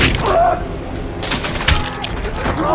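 Gunfire in a war film about Chinese troops in the Second Sino-Japanese War: scattered loud cracks and thumps pop irregularly amid battle noise and shouting.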